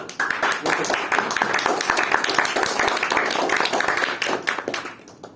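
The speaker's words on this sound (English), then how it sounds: "So have a round of applause" A Toastmasters club audience at the Brunei Speakers Club gives a round of applause, dense steady clapping from a small room of people lasting several seconds before fading out at the end.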